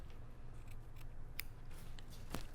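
Scissors cut fabric bias tape for sewing a dress, giving a few quiet, close snips over a soft low room hum.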